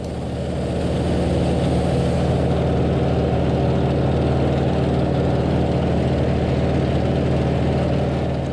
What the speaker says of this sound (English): This is the CJ6 military trainer.